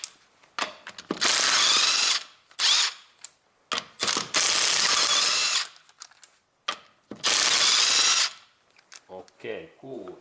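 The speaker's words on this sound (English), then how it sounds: "we use this my impact driver, what I can recommend, Makita battery base, and bolts opens really nicely and fast" A Makita battery impact driver loosening car wheel bolts, several loud close bursts of rapid hammering lasting one to two seconds each, separated by pauses, with small metallic clinks and rattles toward the end.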